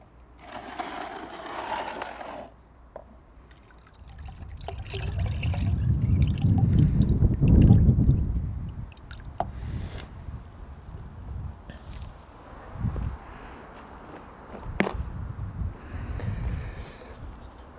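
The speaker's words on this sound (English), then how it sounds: "That's obviously full of coolant as well, so I need to dispose of that in my tank, which I've got under the car." Coolant draining from a Mazda MX5 into a tank under the car, heard as an uneven splashing trickle that swells and fades over several seconds, with intermittent clunks and handling noises nearby.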